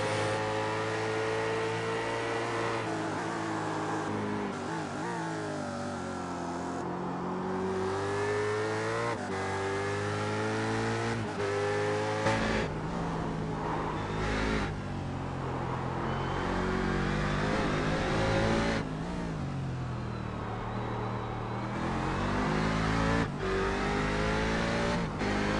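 Onboard engine of a race car during a lap in a Grand Am racing video game, a loud continuous whine rising and falling through gear shifts, braking and acceleration, with no voices.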